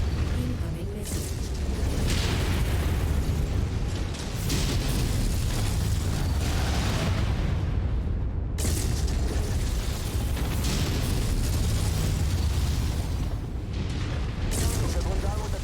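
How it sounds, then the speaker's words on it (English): Missiles explode in a mech combat video game, a dense run of loud booming blasts that roll and overlap continuously, with short gaps around the fourth and ninth seconds; radio-style voices talk underneath. "Incoming missile."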